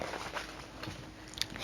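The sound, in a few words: munching sound effect, children eating gingerbread house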